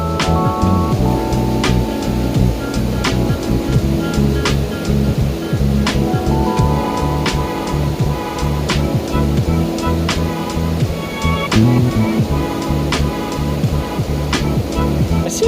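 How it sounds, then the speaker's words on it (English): A waterfall rushes steadily behind an angler fishing downstream in late summer, a loud continuous roar of water with scattered sharp clicks and knocks close by. "The waterfall's behind me"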